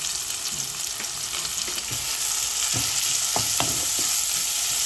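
Onions sizzle and fry in a pan with a steady hiss, broken by a few scraping stirs.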